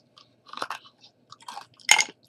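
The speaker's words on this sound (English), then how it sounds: "take this ice cube, get chewing on it" Crunchy chewing on something hard and icy, a few separate bites and grinds close up, the last crunch loudest, with no talking.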